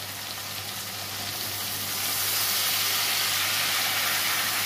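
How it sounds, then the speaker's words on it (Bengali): Steady sizzling hiss from a pan of Kajli fish as water is poured in, a broad continuous fizz that swells louder halfway through and holds, close and alone with no voices. "দিয়ে দিচ্ছি পরিমাণ মতো জল"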